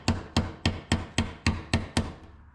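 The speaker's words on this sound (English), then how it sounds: "then you use a flat one to pound it flat" A hammer pounds a rivet flat on a Corvair van wing window, eight sharp metallic strikes in a steady rhythm, close and loud with nothing else audible.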